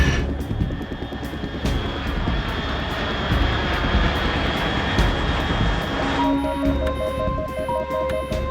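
A fast aircraft passing overhead at high altitude in the video game Metal Gear Solid 3, a steady loud engine roar sustained throughout with faint ticking game effects layered on top, no talk.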